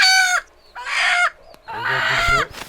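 A chicken clucks loudly and close by in three drawn-out, squawking calls separated by short pauses.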